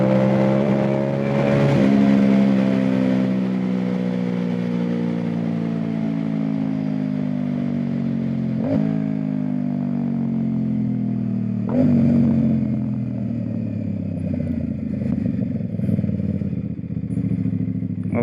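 Tuned motorcycle with a quick shifter accelerating hard on a freeway, engine note climbing in pitch, then cutting abruptly at quick upshifts and rising again, loud and steady with wind roar and no talking.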